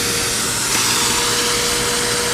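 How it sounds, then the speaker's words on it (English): An electric fan set to low, blowing a steady, dense whoosh of air with a faint constant hum underneath, close and fairly loud throughout with no voices. "Now let's turn the fan off so you can hear me talking."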